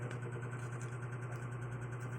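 A Tamiya Mini 4WD Rev Tuned 2 motor with a 4:1 gear ratio runs out of the box during a speed test, giving a steady, faint whine and hum with no talking.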